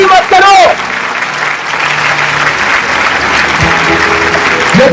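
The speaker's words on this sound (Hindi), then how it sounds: "जोर से तालियां बजाओ भाइयों" Loud congregational applause at a church service in Goa, dense clapping from a crowd filling the room, preceded by a brief shouted voice at the start and another voice cutting in at the end.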